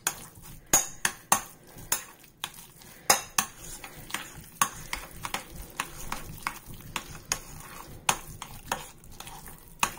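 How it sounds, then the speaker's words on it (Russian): Cottage cheese being stirred with egg yolks in a bowl, with a utensil scraping and clinking against the dish in irregular, fairly close taps over steady mixing noise, with no talking. "Перемешиваем как следует."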